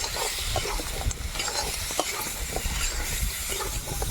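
Kadam being stir-fried in a pan in a village kitchen produces a dense, steady crackling sizzle with scattered soft scraping, close and fairly quiet, with no talking.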